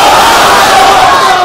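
A large crowd at a dawah conference of the International Khatme Nabuwat Movement in Bangladesh roars the takbir slogan in unison, a loud, sustained mass chant filling the hall for the whole moment.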